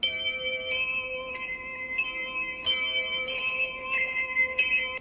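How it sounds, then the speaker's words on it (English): Bells in a film song ring out the tonic note across three octaves, a clear, bright series of struck tones entering one after another over a sustained accompaniment, with no voices. "The bells play sa in three octaves."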